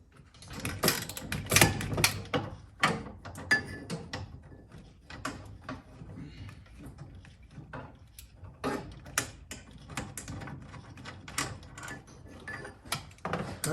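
Bolts being worked loose on the steering box of a 1947 Willys CJ2A Jeep: close, irregular metallic clicks, ticks and ratcheting clatter, with bursts of denser clanking near the start and scattered sharp taps after.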